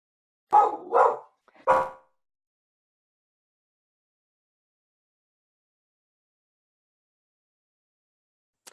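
A pet dog barks three times in quick succession, loud and close, followed by several seconds of near silence in an indoor room.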